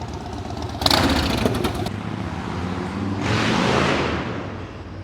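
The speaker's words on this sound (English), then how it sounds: "These loud bikes, really hate them." Loud motorbikes pass along a city street, with engine roars rising and fading over steady traffic rumble, one passing close by.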